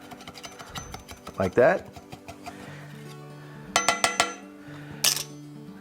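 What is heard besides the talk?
spatula run around the edge of a cornbread pan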